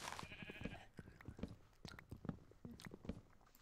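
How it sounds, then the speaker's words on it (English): Sheep in the video game Minecraft bleating in a string of short, loud, repeated calls close by, with no talk over them. "That sheep is very loud."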